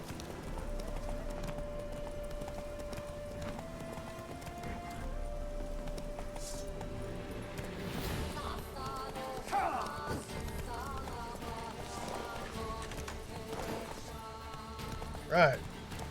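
Roach, the horse in The Witcher 3, trotting with steady rhythmic clip-clopping hooves throughout, fairly close, with a brief louder snort or whinny near the end, under game music.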